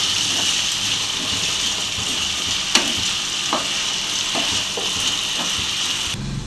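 Curry leaves and salt fry in a pan with a steady, loud sizzle, broken by a few sharp clicks and scrapes of stirring; no one speaks.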